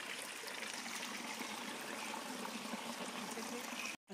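Cold mountain spring water flows along a hiking trail near Islamabad, a steady soft rushing trickle that stays even throughout before cutting out abruptly near the end, with no voices over it.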